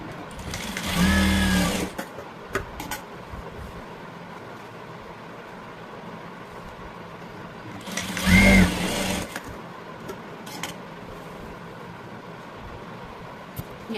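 Two short bursts of a sewing machine stitching darts on a blouse, each lasting about a second, separated by quiet room noise.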